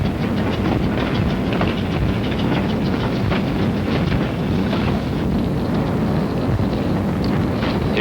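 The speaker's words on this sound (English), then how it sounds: "And the trains loaded with war wearies going back for salvage." A 1951 Korean War supply train rumbles steadily along the rails, wheels clacking rhythmically under a constant loud roar with some wind buffeting.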